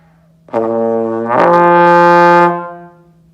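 A sustained trombone tone rises smoothly to a higher note partway through in a lip slur, held steady and loud before fading out.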